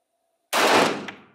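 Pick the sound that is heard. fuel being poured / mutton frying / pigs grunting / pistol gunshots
pistol gunshots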